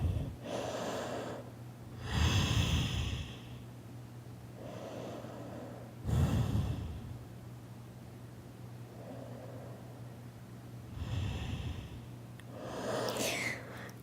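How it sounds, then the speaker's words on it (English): During a yoga forward fold, slow deep breaths repeat at a calm rhythm, each long audible inhale and exhale close to the microphone with soft hiss and no talking. "Close your eyes, take a few breaths."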